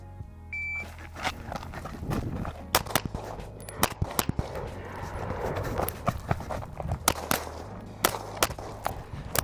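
Pistol shots fired during desert USPSA practice, with a target stand being hit. The sharp reports come in irregular bursts over a steady outdoor hum, with a short electronic timer beep at the start.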